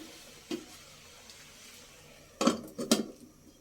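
Lid set over a cooking pan on the stove: one light knock early, then a couple of sharp metallic clanks and rattles close by as the cover settles into place, over a faint background sizzle.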